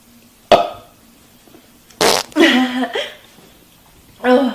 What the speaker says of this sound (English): that was a big fart